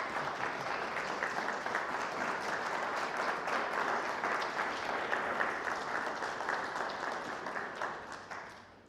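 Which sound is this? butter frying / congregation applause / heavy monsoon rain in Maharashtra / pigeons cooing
congregation applause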